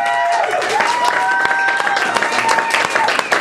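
Steady applause from an audience at a stand-up comedy show, dense and continuous clapping with a few scattered cheers mixed in throughout.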